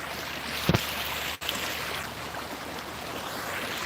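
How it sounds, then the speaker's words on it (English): Water laps softly and steadily on a calm, pleasant day, a gentle continuous wash with a single brief knock partway through. "sound of the water on a nice day"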